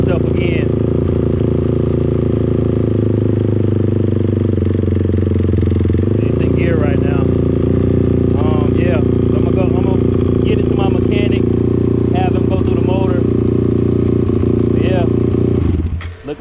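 A crashed Honda TRX 450 ATV engine, cranked using the clutch, runs with a loud, steady low drone throughout while a person talks over it.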